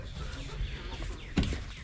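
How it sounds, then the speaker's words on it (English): Chickens clucking close by in short, irregular bursts, with one louder squawk near the end and steady background noise. "Just let the chickens out."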